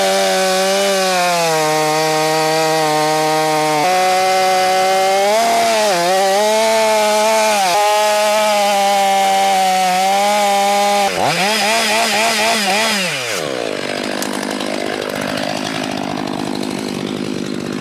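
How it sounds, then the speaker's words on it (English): A Stihl MS 500i fuel-injected chainsaw runs close and very loud while cutting firewood, its engine holding a steady drone, then revving up and down in surges before bogging into a rougher, lower cut toward the end. "The world's first fuel injected saw"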